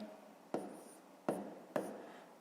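Pen on paper while working out a fifth-grade maths solution by hand: three short, quiet scratchy strokes spaced apart over a faint hiss.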